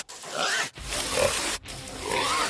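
A wild boar on a mountainside grunts loudly and up close in three rough, snorting bursts separated by short pauses.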